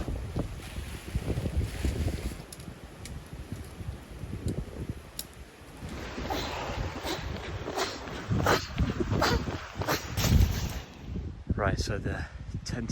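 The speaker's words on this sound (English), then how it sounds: "There's a lot of wind" Gusty wind buffets at a riverside wild camping spot in England's Peak District, rumbling and rising in strong blasts, with rustling and handling noises close by.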